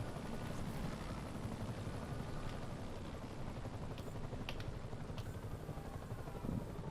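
A helicopter in the video game Marvel's Spider-Man keeps up a steady, loud rotor chop and engine drone for the whole stretch, with a few faint higher clicks and game sounds over it and no talk.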